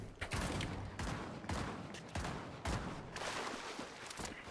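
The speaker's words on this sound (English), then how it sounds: "I could hear a gatekeeper just non-stop shooting" Non-stop automatic gunfire from a gatekeeper NPC in Fortnite Battle Royale, with rapid, repeated bursts of shots following one another with barely a pause and fairly close.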